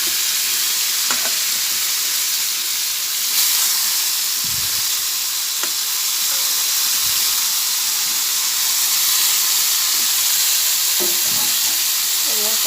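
Boiled, drained ol kochu stems tossed into a hot pan of oil, a loud continuous sizzle and hiss close by, with a few soft knocks of a spatula against the pan.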